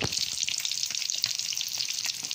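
Milkfish, mackerel and dalagang bukid frying together in hot oil, giving a steady, dense sizzle and crackle that fills the whole stretch with no voices.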